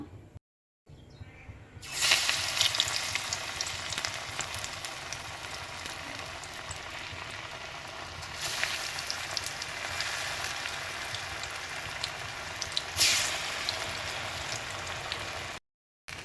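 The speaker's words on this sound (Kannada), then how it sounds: "ಕಾದಿರೋಂಥ ಆಯಿಲ್ಗೆ ಒಂದೊಂದಾಗಿ ತೆಗೆದ್ಬಿಟ್ಟು ಹಾಕೋಣ" Chana dal vadas frying in hot oil, a steady bubbling sizzle close by that starts abruptly after a short silence, swelling briefly as more batter drops in, then cuts off at the end.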